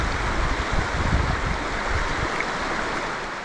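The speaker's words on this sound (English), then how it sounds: "Little Missouri River. Water crossing again." Water of the Little Missouri River rushing and burbling steadily throughout a hiking crossing, close and fairly loud, with no talk.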